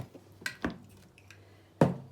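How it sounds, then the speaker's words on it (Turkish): A utensil stirs kısır, a bulgur salad, in a bowl after salt is added, giving a few sparse scraping clinks and knocks against the dish, close and fairly quiet, with one sharper knock near the end. "Tekrar karıştırıyorum."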